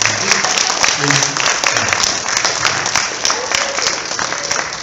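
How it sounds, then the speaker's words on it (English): Dense, loud applause from an after-prom hypnosis show audience, continuous clapping with crowd noise and some voices mixed in throughout. "Give them all a nice round of applause"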